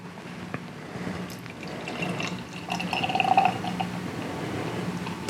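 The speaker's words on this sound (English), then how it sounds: "Let's go ahead and crack this one open" Beer pours from a can into a glass, a close, steady liquid gurgle and splash that swells in the middle as the glass fills, with no talking.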